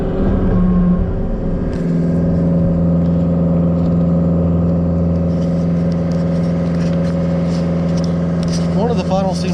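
A new John Deere 333G skid steer runs cold at a steady, loud idle close by, its layered engine drone carrying a faint whine throughout with a brief rising tone near the end.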